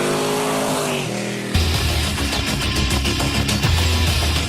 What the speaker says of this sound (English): A 410 cubic inch big block beast that churns out 535 screaming horses